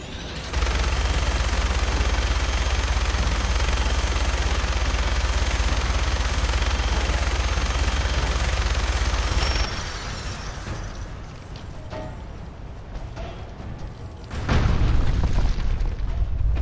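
Sustained barrage of gunfire and explosions in Fallout 4, loud and dense for about ten seconds, then thinning to scattered distant shots before another heavy burst near the end.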